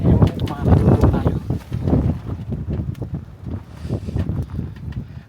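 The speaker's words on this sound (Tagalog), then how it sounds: "malakas ang hangin" Strong wind gusting into the microphone, a dense, loud rumble that swells and fades throughout, under a person talking.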